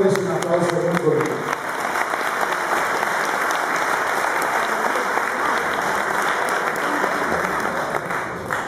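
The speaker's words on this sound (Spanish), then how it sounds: "Y démosles un aplauso muy bonito." Warm applause from guests and members at a Rotary lunch, dense sustained clapping filling the room after a short stretch of speech at the start, loud and steady to the end.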